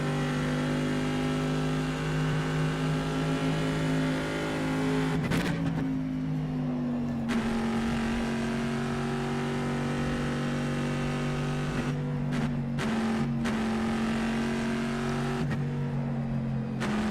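Race car engine in the rFactor 2 EnduRacers mod, a steady, loud, close mechanical drone that briefly breaks and drops in pitch at a few quick upshifts before pulling again.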